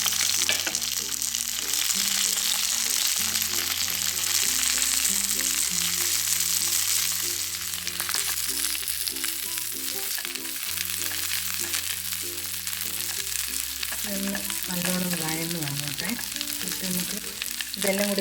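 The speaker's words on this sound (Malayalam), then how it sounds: "അതിലേക്ക് കുറച്ച് നെയ്യ് ഒഴിച്ചു കൊടുക്കുക കുറച്ച് മതി അതിലേക്ക് വെളുത്തുള്ളി ചെറിയ ഉള്ളി" Garlic, shallots and chillies frying in a little ghee, a continuous bright sizzle running underneath steady background music for the whole stretch.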